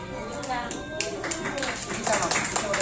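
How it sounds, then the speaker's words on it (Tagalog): Guests clap together at a first birthday party: a steady patter of handclaps running for about three seconds, with voices talking over it. "isang malakas na palakpak"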